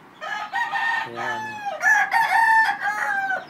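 A purebred fighting rooster meant for breeding crows loudly and close by, one long drawn-out call with a clucking start, while someone speaks briefly at the beginning.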